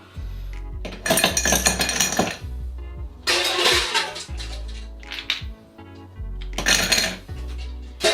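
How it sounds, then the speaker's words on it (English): Ice cubes tumble into a highball glass for a cocktail in three separate bursts of loud, close clinking and rattling, with brief pauses between pours. "what you want to do is fill it with ice"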